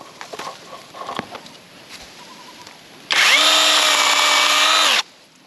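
A loud power saw bursts in for about two seconds of steady, high-pitched whining cut through durian tree branches, after a stretch of faint background clatter.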